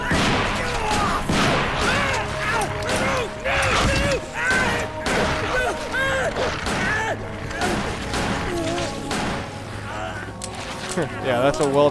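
Rapid gunshots ring out in the Resident Evil remake, a burst of repeated shots from a special forces agent emptying her weapon, loud and close over game music with voices talking throughout.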